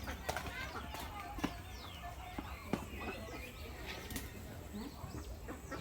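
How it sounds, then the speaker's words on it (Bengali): Chickens and pigeons in a rural coop, with wing flaps, clucks and soft cooing scattered over steady outdoor ambience, plus brief sharp knocks and faint background voices. "মুরগি কবুতরের খোয়ার"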